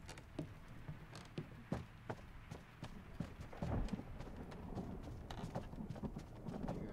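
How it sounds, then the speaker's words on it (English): Footsteps in the game Call of Duty: Black Ops Cold War fall in a steady, faint patter of clopping steps, some irregular thumps mixed in and no voices. "I hear a lot of footsteps."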